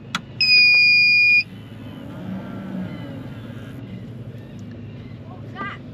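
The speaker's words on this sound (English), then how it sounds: "wait for it, power's on. It's the inverter, mate." A power inverter switches on at a camping spot near Perth and gives one steady high electronic beep lasting about a second, followed by a low hum, and someone talks nearby.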